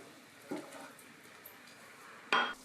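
A spoon stirs risotto with onion and stock in a pot, two distinct clinks of utensil against the pot separated by quiet, faint scraping between them.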